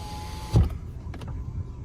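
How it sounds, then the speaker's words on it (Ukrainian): A power window on a VW Golf 5 with a 1.6 MPI engine, a faint motor whir that ends in a soft thump, then a brief second movement, heard close inside the car. "склопідйомники працюють"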